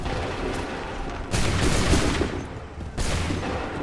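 Musket volleys crack out in Assassin's Creed III, with two dense bursts of massed gunfire rising over a constant battlefield din, loud and close, with no talk.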